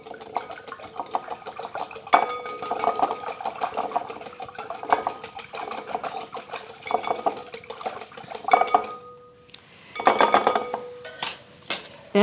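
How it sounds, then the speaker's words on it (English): Ingredients for a cornbread crust whisked together in a bowl, giving a rapid, continuous run of metallic clinks and scrapes with short pauses and a few louder bursts near the end, close by with no talking. "I'm going to whisk these together"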